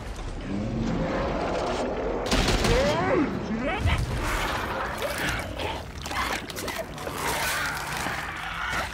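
Rapid gunfire bursts in The Last of Us Part II crackle with scattered loud shots among splashy, chaotic noise, heard under a player's excited talking.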